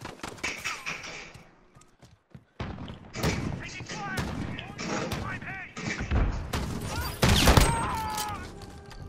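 Booming shotgun blasts and thuds from Call of Duty Modern Warfare during a 2v2 gunfight on PS4, loud and repeated amid game effects, with players talking excitedly over the action.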